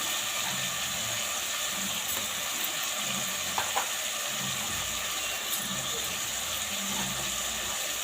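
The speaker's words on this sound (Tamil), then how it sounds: "இஞ்சி பூண்டு பேஸ்ட் போட்டுட்டு அதையும் வதக்கிடலாம்" Ginger garlic paste sautéing in a pan with tomatoes for a brinjal and potato gravy, a steady low sizzle with soft scraping stirs and a couple of faint clicks throughout.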